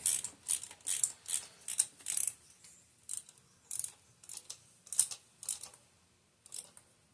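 A Blue Point ratchet clicks while working on the spark plugs of a Chevy Cruze 1.4L, giving close, crisp bursts of rapid pawl ticking in short strokes with brief pauses between them.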